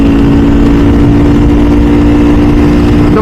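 A Ducati V4 SP2 motorcycle engine runs hard on a canyon road, a loud, dense, steady drone with strong low rumble and wind, close up and without talk.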